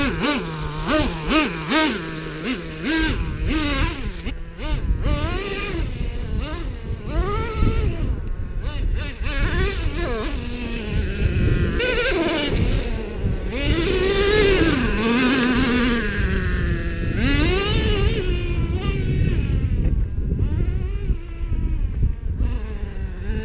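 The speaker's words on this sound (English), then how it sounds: "gonna drive the T-Max" Yamaha T-Max scooter engine droning and revving unevenly while being ridden, loud and close throughout with wind buffeting and faint voices mixed in.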